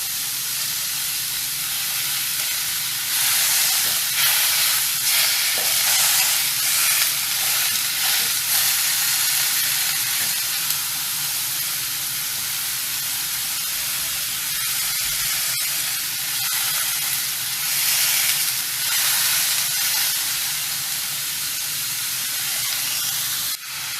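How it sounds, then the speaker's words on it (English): Salmon fillets pan-searing over medium heat give a soft, continuous hiss and sizzle with brief louder spits of steam, with no voices over it. "So I'll flip these ones over and cook it on a lower heat, about a medium."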